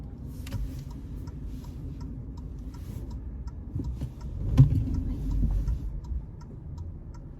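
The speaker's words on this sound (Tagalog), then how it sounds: "So, medyo matraffic na ngayon guys, no?" Road traffic during a morning commute to work: a steady low engine rumble from nearby vehicles, with a faint regular ticking over it and a louder swell of passing traffic midway. No one speaks.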